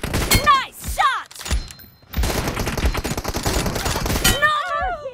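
Sniper rifle shots in a team shooter game ring out as loud sharp cracks with heavy booms in the middle, mixed with whistling game effects.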